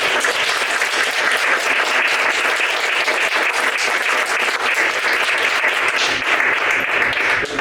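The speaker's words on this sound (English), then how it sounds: "I just want everybody to give them a round of applause." Sustained audience applause at a community and activism panel on DIY event curation, a dense steady wash of clapping from a full room lasting throughout with no talk over it.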